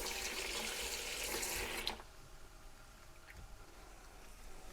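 A burst of loud hissing as a tablespoon of water hits a hot pan of vegetables, cutting off abruptly after two seconds and settling into a quieter simmer.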